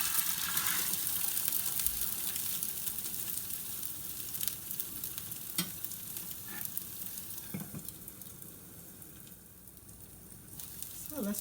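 A pod bean pancake fries in a pan over high heat with a steady close sizzle and occasional soft scrapes and taps of a spatula.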